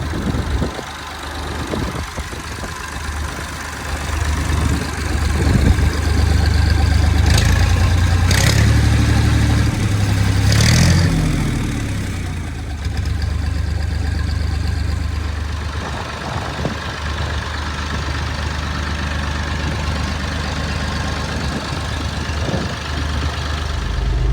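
A Massey Ferguson 550 tractor engine runs after sitting for twenty years, a loud, close, steady diesel chug that swells into a brief rev before settling back to an even idle.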